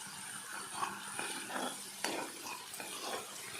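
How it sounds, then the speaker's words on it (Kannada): A paste of cumin powder and turmeric mixed with water sizzles softly in hot oil in a tempering for drumstick and onion palya. Faint, steady frying hiss with occasional stirring scrapes and no talk. "ಇದು ಸ್ವಲ್ಪ ಹೊತ್ತು ಎಣ್ಣೆಯಲ್ಲೇ ಫ್ರೈ ಮಾಡೋಣ"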